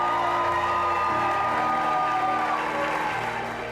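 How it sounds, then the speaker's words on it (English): Audience applause at an award ceremony, a steady wash of clapping from a crowd over a sustained tonal hum, fading slightly near the end. "Please join me in giving a warm applause to Eileen Beckley"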